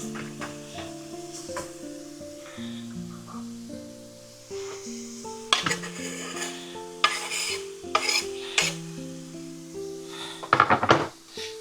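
Onion and minced meat frying in a pan with pasta for a simple dish, with soft sizzling and scraping stirs that grow busier toward the end, backed by steady background music.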